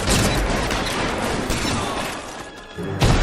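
Gunfire in a shootout from Rockstar's L.A. Noire, a dense, loud barrage of shots and booms rolling continuously, with a brief lull before a final heavy burst.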